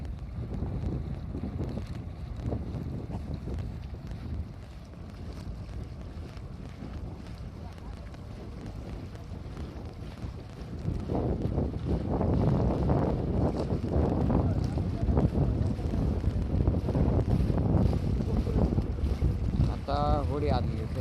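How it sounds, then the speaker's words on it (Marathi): A fishing boat comes in across a dam reservoir, its low engine rumble swelling louder and closer about halfway through, with heavy wind buffeting the microphone and voices faintly in the background. "होडी आली"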